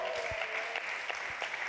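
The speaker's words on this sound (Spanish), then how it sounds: "Dale un aplauso al Señor" A church congregation applauds during a Spanish-language sermon. The applause is a short, soft wash that sounds faint and somewhat distant, with only a few separate claps standing out.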